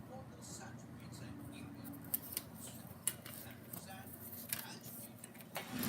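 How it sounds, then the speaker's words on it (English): Heavyweight cardstock trimmed with scissors at a card-making desk, a few crisp snips spaced a second or so apart over a low, steady room murmur. "I'm just going to trim off the excess."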